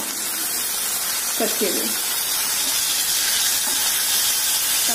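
Tomatoes sizzle in a hot pan for masala idli, giving a loud, steady, close hiss throughout, with a few brief spoken words over it.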